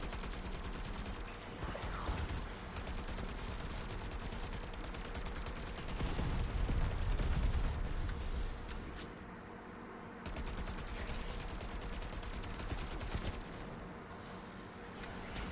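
Sustained automatic AK rifle fire in a video game rattles in dense, rapid bursts, loud and continuous, with heavier booming stretches mid-way and brief lulls between volleys.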